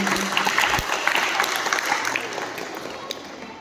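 An audience claps steadily and fairly loudly through an inter-house poetry recitation event at Tagore Public School, Haldwani, the dense applause easing slightly toward the end.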